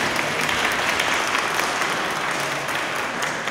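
Loud, sustained audience applause for a drummer at a Christmas carol concert, steady dense clapping throughout with no voices over it.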